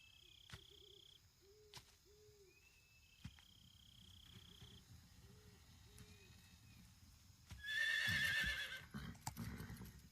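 A horse in the video game Metal Gear Solid 3 gives a high whinny near the end, preceded by a quiet jungle ambience with insect chirps, bird calls and faint hoof clops.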